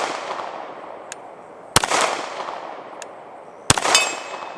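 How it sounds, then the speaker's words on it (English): Two sharp pistol shots each ring a small 8-inch steel gong, giving a bright metallic clang that shimmers and fades. Fainter, more distant cracks sound between them, and no voices are heard. "Let's hit our 8-inch gong that's to the right there."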